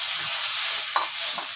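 Boiled pea paste filling fries in a pan as a steady, close, loud hiss with a couple of soft stirring scrapes.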